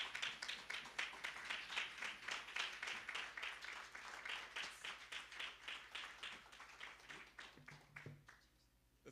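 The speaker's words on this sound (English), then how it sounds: "please let's stand up and round of applause" An audience at a development fund report launch applauds steadily as a Deputy Minister is welcomed, a dense, even patter of many hands clapping for several seconds at moderate distance before tapering off.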